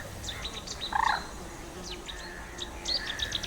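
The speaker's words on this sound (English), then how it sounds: "I discovered this was a Chetty's warbler." A Cetti's warbler calls from reeds and grasses, its short, sharp, fairly distant notes repeated against a soft, steady outdoor background.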